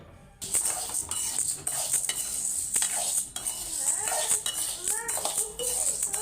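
Dal dry-roasts in a kadai for idli podi, heard as continuous rattling and scraping from stirring, with clinks of the utensil against the pan and a faint sizzle.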